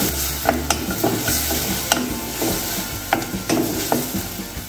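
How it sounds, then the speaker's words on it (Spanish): Ají panca chili paste sizzles steadily in a pan for a green bean stew, with the scrape and clack of a spoon stirring it at irregular intervals; close and fairly loud, no talking. "Vamos a añadir una cucharada grande de ají colorado o ají panca."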